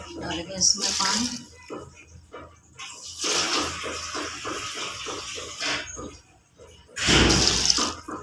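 Water is poured in bursts into a pot of desi chicken karahi cooking with red chilli and onion, with three gushing pours separated by quieter stretches where someone talks.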